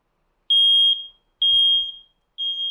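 Smoke detector alarm giving three loud, piercing high-pitched beeps, each about half a second long with short gaps between them, heard alone with no talking.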